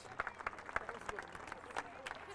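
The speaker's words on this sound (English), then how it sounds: "How about a big round of applause?" Scattered claps ring out from a small crowd at a women's pro archery shootdown, sparse and uneven with some sharp individual hits, while voices murmur underneath.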